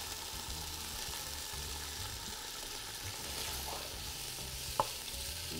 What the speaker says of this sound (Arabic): بس شوي نشوح البصل قبل ما نضيف الثوم